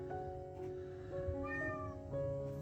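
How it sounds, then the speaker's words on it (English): A cat meows several times in a drawn-out, wavering, sing-song way over a low indoor hum. "Oh, my cat is singing."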